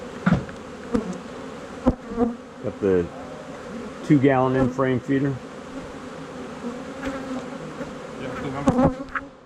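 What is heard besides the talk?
honey bees buzzing around hive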